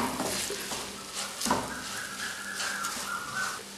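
Spoon stirring chilli powder into bilimbi pickle in a pan over a low flame, a soft scraping and faint sizzle running steadily with a few louder clinks against the metal.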